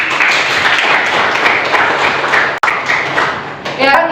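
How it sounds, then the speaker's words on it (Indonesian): A classroom full of students claps together, a dense continuous patter of applause that breaks off briefly before resuming, loud and close. "Oke, beri tepuk tangan kita semua."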